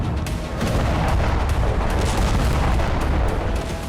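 Russian bombardment in Ukraine, heavy explosions and artillery booms rumbling loudly and almost continuously, with sharp blasts standing out over a dense, roaring background.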